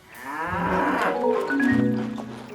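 A cow moos in a long, loud, drawn-out low bellow on a farm in a children's cartoon, heard alone without talk.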